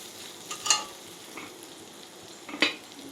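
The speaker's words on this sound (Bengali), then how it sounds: "পুরো ভাজা ভাজা হয়ে গেছে" Onion, ginger, green chilli and tomato spice paste fries in oil, a soft continuous sizzle close by, punctuated by two distinct spatula scrapes against the pan, with no talking.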